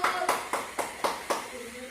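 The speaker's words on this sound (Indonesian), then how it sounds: "tepuk tangan Ibu" Short bursts of hand clapping in a steady rhythm, six or so quick claps spread over two seconds, moderately loud in a room.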